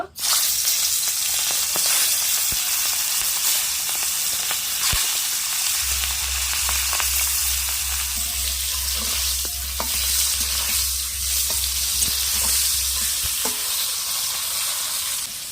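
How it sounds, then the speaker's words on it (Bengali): Large skewered prawns fry in a pan, giving a loud, continuous crackling sizzle close by, with occasional sharper pops and a low steady hum joining partway through; no one speaks. "এই চিংড়ি মাছগুলো এবার আমি ভেজে নেব"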